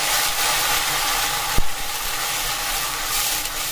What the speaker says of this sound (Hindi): और अब मैं इसे भून लूंगा प्याजों को।